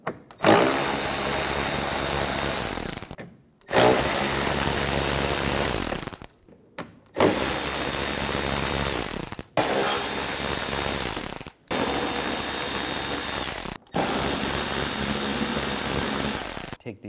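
A ratcheting socket wrench with an 8mm socket removes screws on a 2009-2013 BMW 328i xDrive during a leak detection pump replacement, heard as six loud, close bursts of rapid clicking separated by brief pauses, with no talking.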